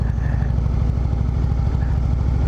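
An Indian Chief Dark Horse motorcycle rounds a roundabout at normal speed, its engine a loud, steady low rumble with an even pulsing throb and no talk.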